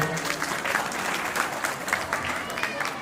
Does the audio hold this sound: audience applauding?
yes